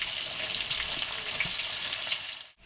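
Onions fry in hot oil with garam masala in a pan for mutton kulambu, giving a steady close hiss and sizzle that cuts off abruptly at the end.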